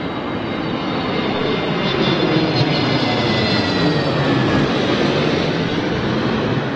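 A TAP Air Portugal Airbus A320neo landing on runway 27L at London Heathrow makes a loud, steady jet roar that holds without a break for the whole stretch, with a broad rushing hiss and no voices.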